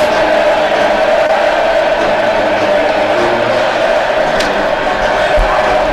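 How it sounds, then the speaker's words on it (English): Hockey crowd at Yost Arena during an Ohio State versus Michigan game, a loud continuous roar filling the rink with a steady wash of noise and a commentator's voice over it. "The Yost crowd, the Yost Arena crowd, already into this game"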